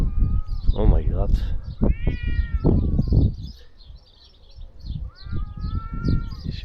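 A cat, apparently in pain, lets out several loud, drawn-out meows close by, with a pause before one more wail, as people talk over and between the cries.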